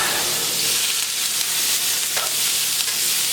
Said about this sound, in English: put the jalapenos on medium heat in the skillet